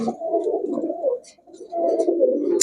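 Giribaz high-flyer pigeons coo close by in two rounded, throaty phrases separated by a short pause, with a few faint chirps in between and no talking.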